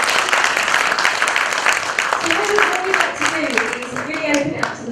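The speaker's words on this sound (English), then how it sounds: "can we give Peter a really big round of applause?" Audience members at a talk applaud in sustained, moderately loud clapping for several seconds, with voices faintly audible underneath.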